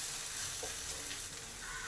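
A spatula stirs chicken frying in spices in a pan for a Bengali chicken and potato curry. Continuous close sizzling and scraping, with no voices.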